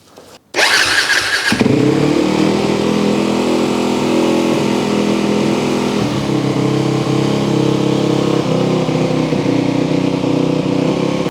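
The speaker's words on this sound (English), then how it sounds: "you should start the engine and let the bike warm up so the oil can flow better" A Yamaha WR450F dirt bike engine starts up and settles into a steady, loud idle as it warms, running alone without talk.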